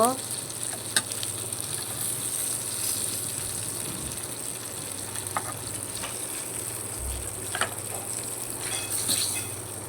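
Naga chicken wings frying in soybean oil, a steady dense sizzle and crackle with occasional sharper pops and a low hum underneath, close and continuous throughout.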